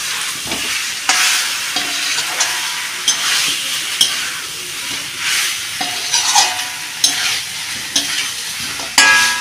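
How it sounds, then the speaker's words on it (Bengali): Potatoes stirred into frying mutton masala in a pan, loud close sizzling broken by repeated scraping strokes of a spoon, no voices. "না আমি আলুগুলো দিয়ে দিচ্ছি, একটুখানি নেড়ে নেবো আলুর সঙ্গে, যাতে মশলাটা মাখা হয়ে যায়।"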